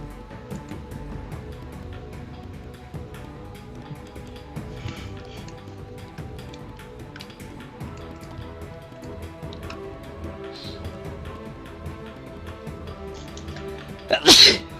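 A single loud sneeze bursts out near the end, after a long stretch of quiet room tone and faint background sounds during a Pokémon-themed stream.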